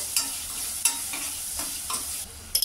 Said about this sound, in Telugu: ఇప్పుడు ఈ అల్లం ఎల్లిగడ్డ పేస్ట్ను ఫ్రై కానివ్వాలి.